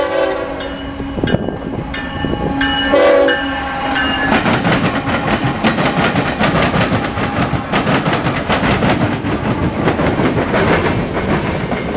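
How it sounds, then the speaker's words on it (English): A Norfolk Southern northbound mixed freight train in Marion, Ohio sounds its horn in several loud blasts, then rolls past close by with a continuous heavy rumble and wheel clatter. "That's right, Norfolk Southern northbound."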